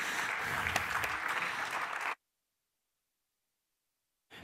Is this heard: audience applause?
yes